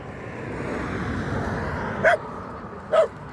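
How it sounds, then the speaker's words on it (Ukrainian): A dog found along a highway gives two short, separate barks about a second apart, fairly close, over a steady background hum. "А чого ти гавкаєш?"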